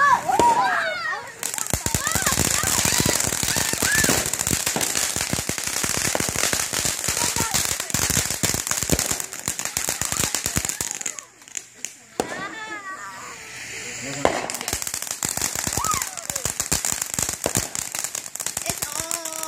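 Fourth of July fireworks and firecrackers pop and crackle in dense, rapid bursts outdoors, with people talking and calling out over the near-continuous racket.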